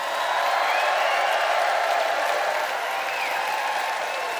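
A studio audience at a comedy debate show applauds to vote for a debater, a dense, continuous roar of many hands clapping with some cheering mixed in, loud and sustained throughout.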